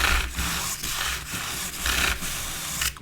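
A brush is rubbed along the grain of wood to age a miniature plank floor for figurine scenery. The scraping strokes come in a regular back-and-forth rhythm, close and moderately loud, with brief gaps between strokes.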